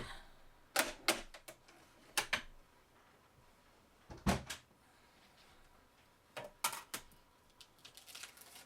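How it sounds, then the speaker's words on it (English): A die cutting machine pressing a die through cardstock gives faint clicks and low mechanical clunks in scattered bursts over a quiet background, with a few sharper knocks among softer rustling movements. "I'm just running that through a couple of times just to make sure it's die cut all the way through"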